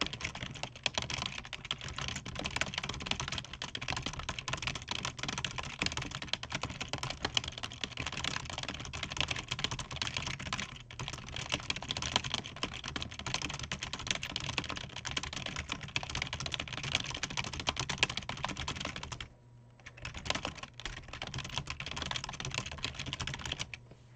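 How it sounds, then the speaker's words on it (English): Steady, rapid clatter of computer keyboard keys while playing an old typing game, continuous keystrokes with a short pause near the end, close and clear with no voices. "at least you're typing actual phrases, which I think can be better training than just typing random words"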